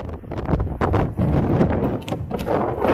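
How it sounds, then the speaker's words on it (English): Heavy wind buffeting the microphone while riding an electric scooter, a constant loud roaring rumble with gusty surges throughout and no clear voices. "it's very, very windy"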